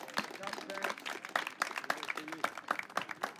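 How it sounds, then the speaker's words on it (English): A round of applause for parents at a school athletic signing day, with uneven clapping from a modest crowd mixed with voices and chatter in a hall. "let's give our parents a round of applause for all their help"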